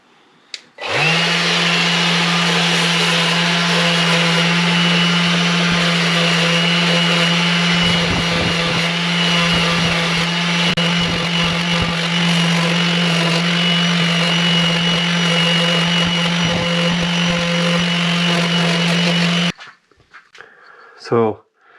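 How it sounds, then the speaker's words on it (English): A power sander runs steadily on wooden edges to round them, a loud continuous whine with a strong low hum that holds for about eighteen seconds before cutting off, followed by brief rustling. "So let's get to sanding."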